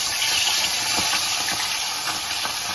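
Fish heads fry in hot oil with a steady, close hiss and a bright crackling sizzle throughout, and faint scattered pops breaking through.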